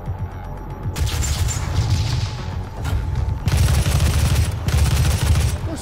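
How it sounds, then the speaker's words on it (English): Enemy gunfire in DOOM (2016) comes as loud, dense bursts of rapid shots, nearly continuous with brief gaps, close and forceful, with little talk over it. "Is someone shooting at me?"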